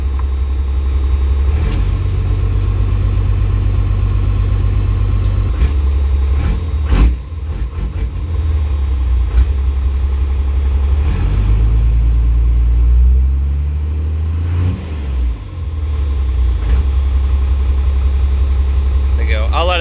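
A red Dodge dually pickup engine idles steadily while warming up, a continuous close, loud low rumble with brief dips, with some talk faintly in the background.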